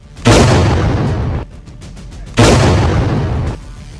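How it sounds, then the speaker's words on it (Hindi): Two loud, broad bursts about two seconds apart, each a sudden booming blast that holds then cuts off, like explosions heard close; a blast at a madrasa in Banka, Bihar, India. "मदरसे में जोरदार धमाका"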